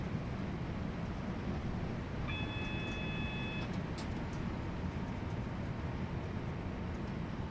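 A train in Train Sim World 6 on the West Coast Main Line from Birmingham to Crewe rumbles steadily with broadband rolling noise, plus a brief steady tonal beep partway through and faint higher squeals.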